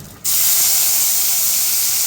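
Tomato puree poured into hot oil bursts into a sudden loud, steady hissing sizzle that holds evenly to the end.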